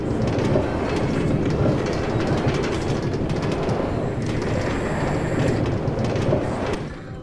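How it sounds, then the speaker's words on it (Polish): A train rumbles steadily past in a Minecraft game, a dense continuous roll of wheel and carriage noise with rhythmic clatter, loud throughout and easing off only at the very end. "Chyba pociąg u kogoś jedzie."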